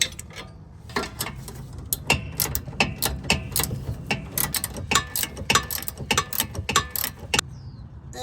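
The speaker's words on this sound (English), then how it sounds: "if you have a ratcheting wrench, you can really get things going." A ratcheting wrench tightens a sway bar link nut on a 2011-2020 Toyota Sienna, giving rapid bursts of sharp metallic clicks in uneven groups, close and clear with no talking.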